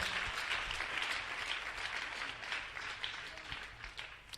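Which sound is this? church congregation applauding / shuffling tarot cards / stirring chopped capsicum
church congregation applauding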